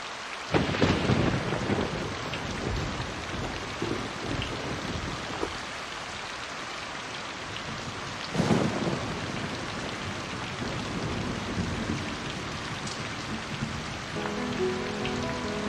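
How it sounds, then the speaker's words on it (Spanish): Heavy rain pours steadily throughout, with a loud nearby thunderclap near the start and another crack of thunder midway, the downpour continuing as a dense hiss between them. "Llovía tanto."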